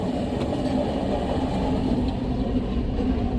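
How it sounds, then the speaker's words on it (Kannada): An AC 2-tier passenger train rolls in, giving a steady, fairly close rumble of railcars with a constant low drone and faint clatter, no voices. "ಟ್ರೈನ್ ಬರ್ತಾ ಉಂಟು, ನಾವು ಹೊರಟಿದ್ದೇವೆ ಇವರ ಮನೆಯಿಂದ"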